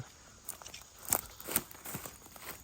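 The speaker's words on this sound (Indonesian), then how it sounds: "Ada suara langkah kaki mendekat ke sini." Footsteps approaching a tent in a forest at night in Alas Purwo, Indonesia, with irregular crunching steps on leaves and twigs. A few sharper snaps stand out midway, and the steps are fairly close against quiet surroundings.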